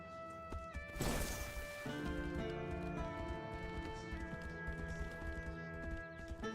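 Horse hooves clip-clop in the video game Tainted Grail: Fall of Avalon, a steady galloping rhythm under a bed of layered game music, with a sharp burst of noise near the start.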